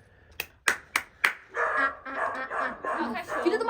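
A dog barks four sharp times in a row close by, then continues in a noisier stretch mixed with other sounds and voices.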